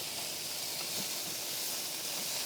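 Chicken thighs sear skin-side down in a hot pan for a teriyaki bowl, giving a steady, dense sizzle and hiss that holds at an even level throughout, with no talking.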